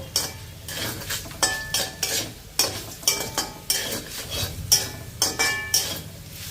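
A utensil stirs and scrapes tempering spices in a sizzling pan, with repeated rhythmic strokes and light metallic clinks over a steady frying hiss.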